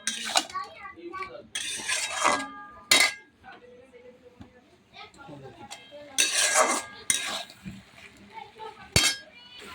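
Potatoes being stirred in a metal pan on a gas stove with a splash of water, giving clinks and scrapes of a utensil against the pan in bursts, with some voices in between.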